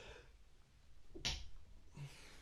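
A single short sneeze bursts out near the microphone, preceded by a quick intake of breath and followed by a faint exhale in a quiet room.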